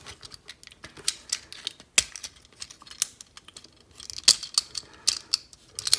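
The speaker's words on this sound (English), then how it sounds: "Pull these panels around." Plastic panels on a Transformers Power of the Primes Leader Class Nemesis Prime toy are pulled and shifted, producing a string of close, crisp plastic clicks and snaps in an irregular, busy rhythm.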